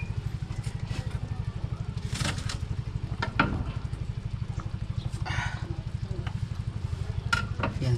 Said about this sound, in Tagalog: iluno natin itong luya